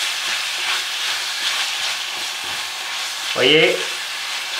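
Ground beef sizzles in a pan with a steady, close hiss and scattered crackle, while a voice speaks briefly near the end.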